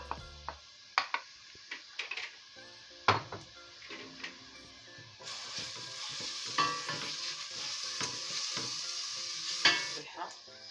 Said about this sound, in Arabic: غادي نضيف عليها واحد جهد بصله كبيره شويه